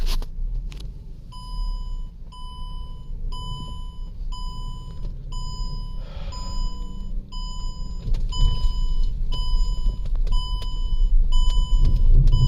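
A 2009 Mercedes C300 with wheels that lock up, trying to drive off: a low engine rumble under a regular series of high electronic warning chimes, with faint clunks and a rising rumble toward the end.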